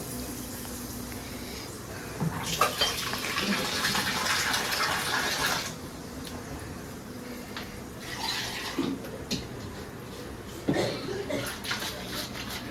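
Water is poured into a pot of tomato saar tempered with mustard seeds, asafoetida and red chili, giving a faint splashing rush for a few seconds followed by shorter, quieter splashes.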